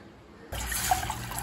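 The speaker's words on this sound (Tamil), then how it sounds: "தேவையான அளவு தண்ணி சேர்த்துக்கலாம்" Water is poured into a bowl to soak soya chunks (meal maker) while making Tamil-style soya kola urundai, starting abruptly as a steady close trickle and splash that runs on without pause.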